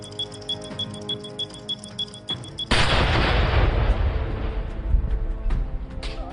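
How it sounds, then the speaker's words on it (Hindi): A sharp, powerful blast from a controlled detonation tied to a foiled terror plot in Kashmir erupts after a few seconds of faint ticking, followed by a long, loud rumbling roar of debris and echo. "1, 2, 3 और धमाका हो गया।"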